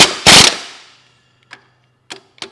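A power tool runs bolts tight on a Nissan X-Trail QR25 engine during a head gasket job: one loud half-second burst, then three short sharp zips spaced apart with quiet gaps between.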